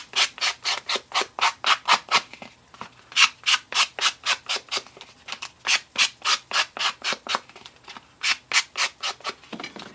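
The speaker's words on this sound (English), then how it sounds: "Okay, I'm going to sand this one." Rhythmic back-and-forth sanding strokes of a sanding block on a rectangular coaster, about thirty quick rasping passes in steady bursts, close and clear with a brief pause midway and no voices.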